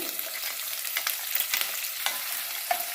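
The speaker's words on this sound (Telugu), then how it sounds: "ఆయిల్ వేడైందండి పచ్చిమిరపకాయలు వేసుకోవాలి ఉల్లిపాయలు" Green chillies and onions hit hot oil and fry with a steady, close sizzle, broken by a few soft stirring scrapes, with no voices over it.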